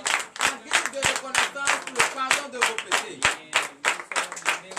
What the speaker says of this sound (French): veuillez vous lever sur vos pieds et donner une vive acclamation à l'Éternel